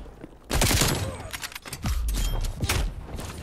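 Gunfire in a Call of Duty match, a sharp burst of shots followed by a second volley of cracks and thuds, loud and close.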